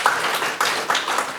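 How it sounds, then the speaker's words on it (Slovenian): Applause from an audience at a film talk over coffee, a steady patter of many hands clapping in a room, moderately loud and continuous with slight swells. "lepo prosim za aplavz seveda"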